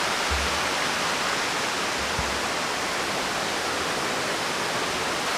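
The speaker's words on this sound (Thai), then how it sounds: "ที่นี่มันเป็นน้ำตกน้ำตกนะทุกคน" Steady, loud rushing water from a nearby forest waterfall fills the whole clip, a dense broadband roar, with a couple of faint low thumps.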